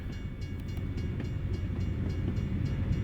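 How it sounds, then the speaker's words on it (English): A train rolls past in American Truck Simulator, a steady low rumble of rail cars with faint regular clicks from the wheels, heard continuously and fairly loud with no talking. "Gosh, is this train going slow?"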